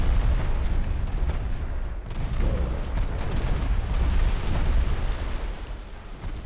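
Torpedo hits exploding against warships in a World War II Japanese naval battle video game, heavy rumbling booms rolling into one another over a loud, continuous battle din.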